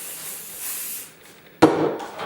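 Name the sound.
hairspray being sprayed on hair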